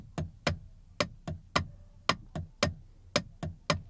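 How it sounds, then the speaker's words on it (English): A simple drum groove: crisp, evenly spaced hi-hat hits with softer quick snare ghost notes tucked between, played alone and close. "You've got a ghost note between the hi-hat and then on the hi-hat"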